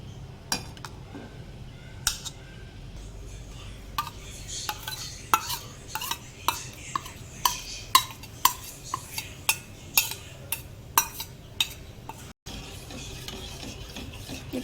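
Soy sauce, palm sugar and chili paste get stirred together in a bowl, a utensil scraping and clinking against the sides in a quick, regular rhythm, close and fairly quiet.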